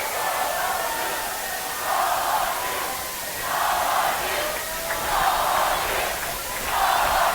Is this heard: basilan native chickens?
no